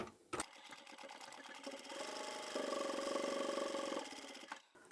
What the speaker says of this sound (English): I'll go back and back stitch at the beginning and sew to the end.